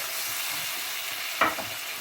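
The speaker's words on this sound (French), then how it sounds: "Je mélange jusqu'à ce que je vois que mon eau s'évapore avec la semoule" Semolina cooks with water in a pan, a steady soft hiss with one brief spoon scrape and stirring swish near the middle, quiet and close, no speech.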